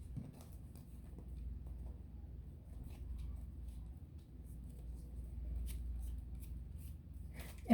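Soft, continuous papery shuffling of tarot cards, close and fairly quiet, with a low background rumble throughout.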